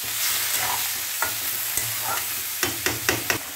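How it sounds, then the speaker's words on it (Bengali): Rice soaked in water being stirred in a pot, a steady low bubbling hiss under a few sharp spoon scrapes and knocks against the pot, close and without talk. "ভালো করে একটু নাড়িয়ে দিচ্ছি।"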